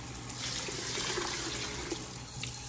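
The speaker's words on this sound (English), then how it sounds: "So we're gonna put 12 cups of water, and we'll test." Water runs steadily from a tap into a 4-cup Pyrex measuring dish in a kitchen, a continuous close rushing and splashing with a low hum underneath and no talk.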